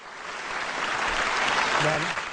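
Audience applause for the president at a political speech, a dense steady crackle of many clapping hands sustained throughout, with faint crowd voices mixed in.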